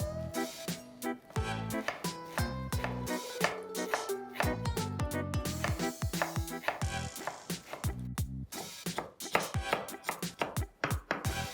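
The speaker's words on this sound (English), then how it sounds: "chop this as fine as we can. When I say chopping, I mean shredding this very fine." A knife shreds spinach leaves very finely on a board for a crispy spinach fry, giving fast, steady rhythmic chopping taps that run close and clear, with no talking.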